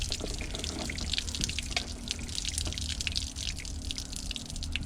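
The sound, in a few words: water draining from a pipe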